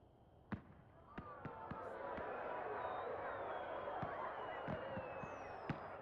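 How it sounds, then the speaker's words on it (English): Fireworks in the video game Dragon Age Inquisition go off as scattered sharp pops and bangs, some followed by rising whistles, over a faint, steady crowd-like murmur. "Oh, fireworks."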